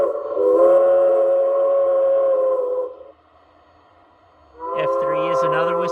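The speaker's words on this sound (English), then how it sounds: "F2 is one of the whistles." A Berlyn Locomotive Works K-37 steam locomotive whistle sounds two loud, chordal blasts, the first holding about two and a half seconds, then a brief pause before a second blast that wavers in pitch.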